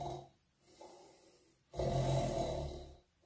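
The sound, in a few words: voice imitating snoring in a folk song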